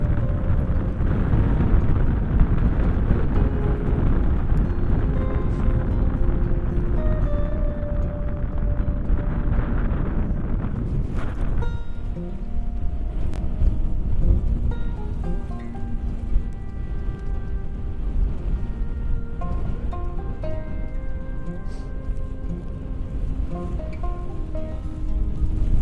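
Strong, steady wind roars during a snowstorm on a New York street, a dense rushing noise that never lets up, with faint clicks and rattles scattered through it.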